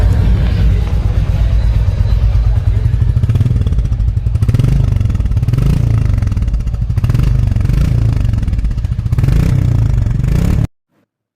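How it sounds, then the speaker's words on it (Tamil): A Royal Enfield Classic 350 (Reborn) motorcycle exhaust, heard up close. It runs at a steady thumping idle, rises in several rhythmic throttle blips, then cuts off abruptly at the end. "லாஸ்ட்டா நம்ம இந்த வண்டியோட எக்ஸாஸ்ட் சவுண்ட் எப்படி இருக்குன்னு பார்ப்போம்."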